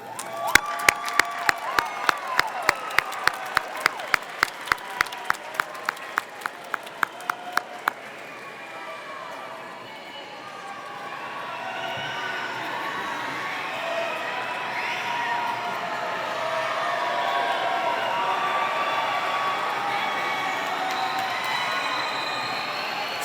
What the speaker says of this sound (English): give them the round of applause they deserve